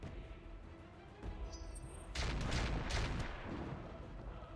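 Quad gun firing in the mech video game RogueTech, a loud burst of booming gunfire that swells in at mid-clip and rumbles on before tapering off.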